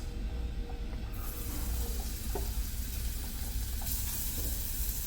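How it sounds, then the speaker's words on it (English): Onions sauteing in hot oil in a pan for green chili rice give a steady, close broadband sizzle and hiss throughout, with a few soft clinks and stirring noises and no talking. "The oil seems hot enough. We'll go ahead and add the onions."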